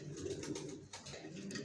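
Racing pigeons coo in a steady low murmur, several soft overlapping calls close by with no pauses and no voices.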